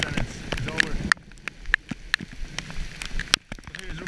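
Rain falls during a thunderstorm, a steady patter on surfaces with scattered sharp drip clicks, fairly close, while a person speaks over it.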